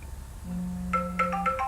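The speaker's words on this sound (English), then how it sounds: "my phone's ringing as you can hear, but I'm going to have to ignore that." A phone ringtone rings in a room, a steady low tone followed by a rapid pattern of bright repeating chimes, fairly clear for under two seconds with no one speaking.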